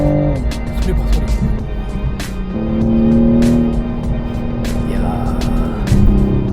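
Toyota GR Supra engine revving loudly up and down in stepped pitches, with a sharp burst near the end, close and dominant, while people talk over it.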